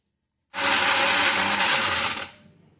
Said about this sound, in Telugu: ఇప్పుడు ఈ టమాటా ముక్కలు మిక్సీ పట్టాలి